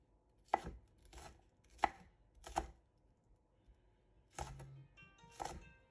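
Mini leeks being sliced into rounds with a knife on a cutting board, six sharp separate chops in an irregular rhythm, close and fairly quiet with near silence between cuts.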